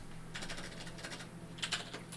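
A computer keyboard clatters in quick bursts of keystrokes as a terminal command is typed, close and fairly quiet, over a steady low hum.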